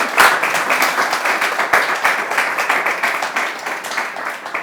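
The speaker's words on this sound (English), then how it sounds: "applause." An audience applauds steadily at the close of a live interview event, a dense, continuous wash of many hands clapping at even loudness throughout.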